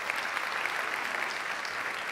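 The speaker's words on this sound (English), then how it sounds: "I would love to give them a round of applause and recognition for this" Sustained audience applause at an evening debate event, dense and even clapping from a large crowd with no talk over it.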